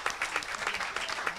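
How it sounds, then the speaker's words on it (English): A church congregation claps in praise during a worship service, a dense patter of many hands with a loose rhythmic pulse, steady and moderately close, with no talk over it. "Give God a hand clap of praise."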